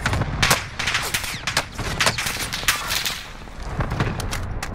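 Dense automatic gunfire rattles nonstop in Call of Duty: Warzone, rapid bursts and sharp shots layered over a booming battle backdrop, loud and close with no voices.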